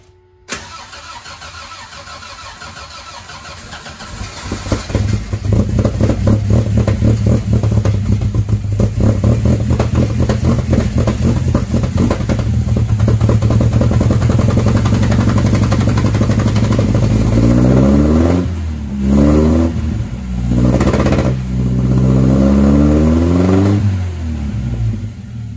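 An Austin Healey 100 BN1 cranks over and fires on a cold start, then settles into a loud, steady idle with repeated revs rising and falling toward the end, close and alone.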